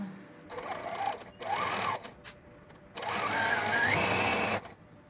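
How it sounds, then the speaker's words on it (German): A sewing machine stitches a knit dress with a small zigzag stitch, running in three close, steady bursts of rapid mechanical whirring, the last run the longest, with brief pauses between them. "Oder falls du mit der Nähmaschine nähst, dann nutze einen kleinen Zickzackstich."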